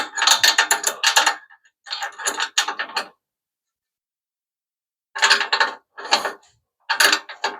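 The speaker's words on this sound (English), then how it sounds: "Gotta wrench them." Wrench ratcheting on the front bumper bolts of a Hemi Plymouth Duster, bursts of quick metallic clicks in four groups separated by pauses, close and clear.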